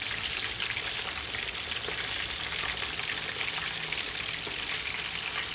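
Chapli kababs fry in hot oil over medium gas heat, giving a close, steady crackling sizzle with fine popping spatters throughout, no voices over it.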